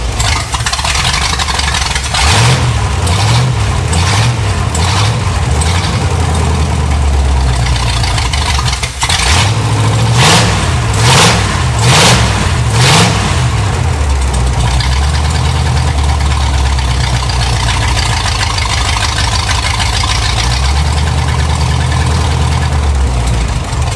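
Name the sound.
engine of an abandoned Pontiac running rough and revving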